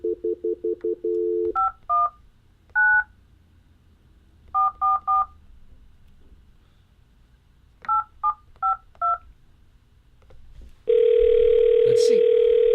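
A touch-tone telephone dials a number: short bursts of paired DTMF tones in irregular groups, near and clear over a faint hum, ending in a loud steady dial or ringback tone. There is no talking.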